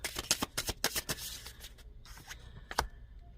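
Playing cards from a large, oversized deck are riffled and shuffled close up, a rapid burst of crisp fluttering snaps that slows into a few scattered slaps and shuffles.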